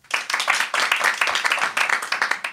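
A live audience claps together at a French comedy show in steady bursts of applause, many hands close and loud, continuing throughout with no talk over it.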